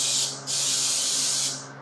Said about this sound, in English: you're gonna wanna make sure that you spray them with cooking spray